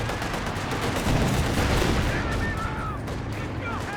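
Dense, loud automatic gunfire from a Maxim machine gun in the strategy game Company of Heroes 2, rattling continuously amid other battlefield bursts and a few whistling tones.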